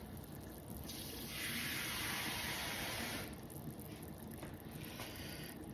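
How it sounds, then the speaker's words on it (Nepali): Water poured into a pot of quinoa, a soft gushing pour that swells for about two seconds then tapers off, fairly quiet and close, no voices. "3 गुणा बढी पानी हालेँ।"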